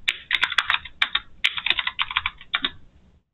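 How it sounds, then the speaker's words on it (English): Someone types an email address on a computer keyboard while testing a Shopify store checkout, with a quick, irregular run of close, crisp key clicks and short pauses before it stops. "I'm just going to type my email here."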